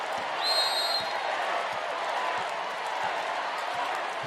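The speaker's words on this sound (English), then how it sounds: "The crowd making plenty of noise." Arena crowd noise at a women's world championship volleyball match between China and the Netherlands, a steady loud roar of voices with a whistle near the start and scattered thuds, no clear cheering burst.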